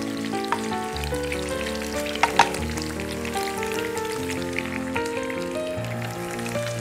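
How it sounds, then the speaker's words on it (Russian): Tofu sizzles in a pan while being stirred during an Indian vegetarian cooking class. A steady, crackling fry runs throughout with a few sharper spatters, and a faint musical hum sits underneath. "Нам придется постоянно помешивать тофу, чтобы цвет у нас получился равномерный"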